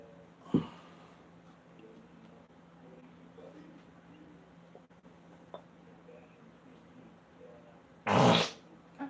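A man on a livestream after arm training lets out a short fart early on, then a longer, louder fart near the end, with quiet room noise and a few faint clicks between them.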